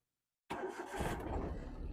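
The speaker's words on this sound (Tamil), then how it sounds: "நான் இப்போ வண்டி ஸ்டார்ட் பண்ணுறேன் பாருங்க" After a moment of silence, a Maruti Alto LXi car engine cranks and catches on the first try, settling into a steady low rumble that continues to the end.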